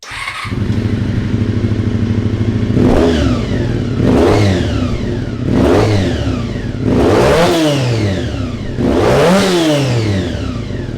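A 1988 Honda CT110 postie bike engine revs hard five times in a row, each blip climbing sharply then dropping back to a steady idle, loud and close.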